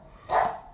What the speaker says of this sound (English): I apologize if you can hear my dog barking in the background